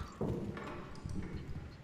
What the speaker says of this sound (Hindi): ऊपर पैरों की आवाज़ आ रही है